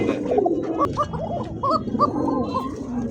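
Domestic pigeons at a pigeon sale coo and burble in a steady, close, overlapping chorus of soft gurgling calls with no talk.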